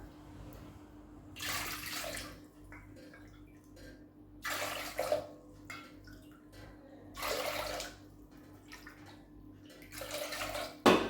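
Water pours into a pot in three separate bursts, each a few seconds long, with quiet pauses and a steady low hum in between.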